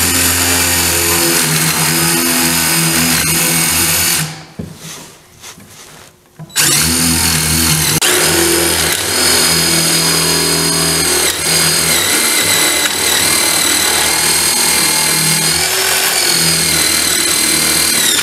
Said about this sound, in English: What I'm going to do is put a hole through both pieces here.